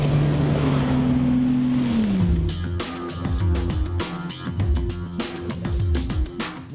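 A Mercury Pro 4-Stroke outboard, a slim 2.6-liter inline six-cylinder, runs on a boat with a hydraulic jackplate. Its loud, steady drone shifts pitch as the engine changes speed, with water and wind noise around it.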